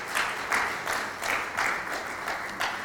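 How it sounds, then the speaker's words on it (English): Audience applause for a panel at an end-of-project event, heard as a steady wash of clapping with rhythmic swells of roughly even loudness, moderately distant, with no talking over it. "I think this panel deserves a better round of applause"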